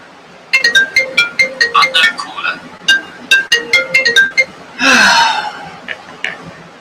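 Phone ringtone from an unknown caller, a bright melodic electronic tune of quick repeated notes, close and loud, with a burst of laughter or a gasp cutting in near the end.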